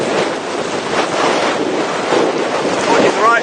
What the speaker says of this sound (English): the wind is at least 12 MPH, possibly more on the lake